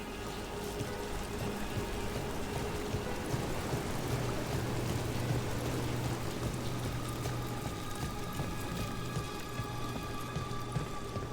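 A waterfall in Dragon Age The Veilguard gives a steady broadband rush of falling water, faint and constant for the whole stretch, with a low musical hum beneath it.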